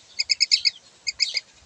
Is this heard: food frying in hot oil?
no